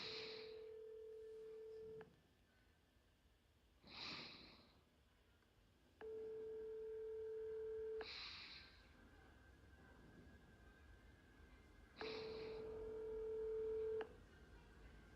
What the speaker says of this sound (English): listen to where this phone number goes to when you